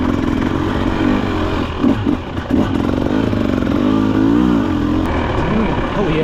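The engine of a 2024 Husqvarna TE300 TBI dirt bike runs close by with a steady buzzing drone that swells and dips in pitch, and people talk over it.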